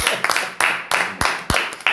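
A church congregation claps in unison, six or seven loud, evenly spaced claps close by, with no talk over them.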